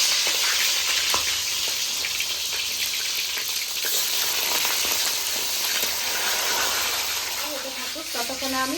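Two catla fish heads rubbed with salt and turmeric hit hot oil in a wok, producing a loud, dense, continuous frying sizzle and crackle that stays steady throughout, with a voice briefly audible near the end.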